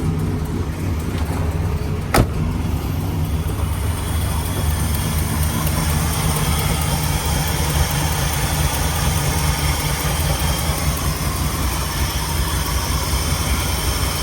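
A 1967 Pontiac GTO convertible with a four-speed idles steadily, a smooth, even rumble close to the car with a faint exhaust-manifold leak, one sharp click near the start and no talking.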